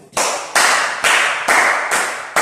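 Audience applause in a French-speaking gathering, arriving in several loud bursts of clapping that swell and fade, each surge restarting sharply, with no voices over it.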